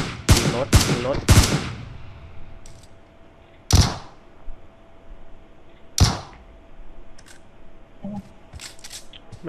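Gunfire aimed at a car in a shooter video game: a quick cluster of loud, sharp shots opens, then single cracks ring out a few seconds apart against a quiet background.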